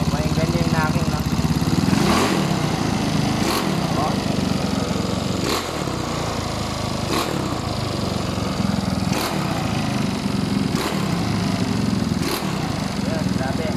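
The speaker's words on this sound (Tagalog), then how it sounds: "So, pakinggan nyo yung knocking na." A 200cc motorcycle engine with a stock head and over-compression runs loud and close, with sharp knocking bursts at a steady interval of roughly every second and a half over a rough idle.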